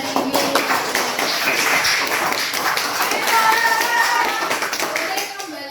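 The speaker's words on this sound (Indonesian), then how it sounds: "Tepuk tangan buat kita semua hari ini." A class applauds together, a dense, steady patter of many hands clapping for several seconds, with some voices mixed in.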